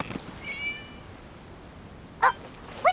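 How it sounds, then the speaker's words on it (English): A cat in the video game Genshin Impact gives a soft, thin meow early on, then two short, clear meows close together near the end, over a quiet background. "It was just a cat."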